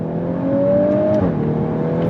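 A VW Golf R with a 7-speed DSG accelerates hard, its engine note rising steadily and then dropping sharply at a quick paddle upshift before climbing again, loud and close inside the cabin.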